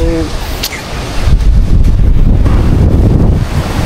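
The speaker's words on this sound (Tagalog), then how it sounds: "malakas yung hangin" Strong wind buffets the microphone in loud, sustained gusts, with a low roar and rushing noise that swells midway and stays heavy.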